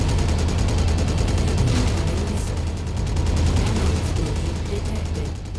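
Rapid machine gun fire from a mech in MechWarrior, a dense, continuous stream of fast shots, loud and close for the whole stretch with no pauses.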